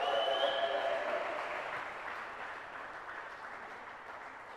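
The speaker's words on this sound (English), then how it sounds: "Give them all one last round of applause." Audience applause in a hall for a table tennis match, Drumchapel Glasgow against Raiffeisen Ligist in the ETTU Cup, a broad wash of clapping that is loudest at the start and slowly fades.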